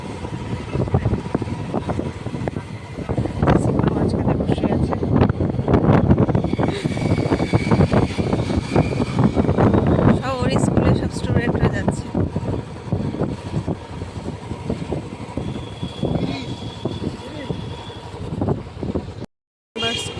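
Steady cool breeze blowing across the microphone on a mild, sunny morning after rain, a continuous rushing noise lasting throughout, with voices talking faintly underneath.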